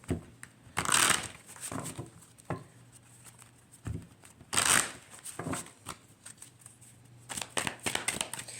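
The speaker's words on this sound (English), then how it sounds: "I'm going to pull a couple of more oracle cards." Oracle cards being shuffled by hand in two brisk riffling bursts near the start and middle, with softer card handling and taps between them, close and fairly quiet with no talking.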